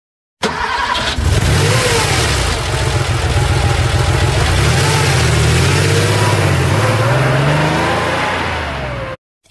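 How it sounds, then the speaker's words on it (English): A car engine starts, then revs up and down in several rising and falling surges before settling, loud and close throughout with no talk. "Car."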